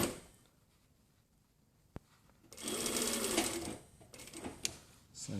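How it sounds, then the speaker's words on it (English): A sewing machine stitches a jacket sleeve in a short, close burst of rapid rhythmic whirring, followed by a quieter second run and a few soft handling clicks of the fabric and machine. "just sew from the top down to the notch, and then down here"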